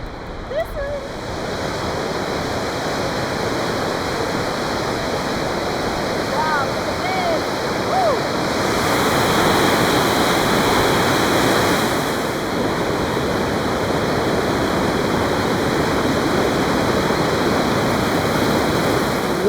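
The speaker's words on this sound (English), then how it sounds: "Everywhere you look you've got a river flowing, and some of them are really powerful like this one." Loud rushing water of a powerful river in Sweden, a dense continuous roar close by, with faint voices beneath it.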